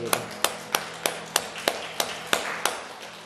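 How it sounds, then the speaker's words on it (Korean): Church congregation clapping in a steady unison rhythm during a Sunday worship service, about ten sharp, evenly spaced claps over a low background hum. "하나님께 감사의 박수 드리겠습니다."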